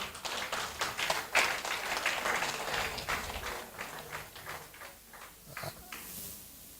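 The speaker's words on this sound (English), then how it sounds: "Please give him another round of applause." Audience at a public lecture applauding the lecturer, a moderate patter of scattered individual claps that thins out toward the end, heard from within the hall.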